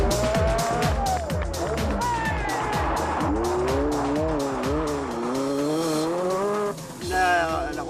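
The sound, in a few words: Renault 5 Turbo rally car sliding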